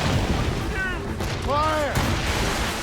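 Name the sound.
ship cannons firing in Assassin's Creed Rogue video game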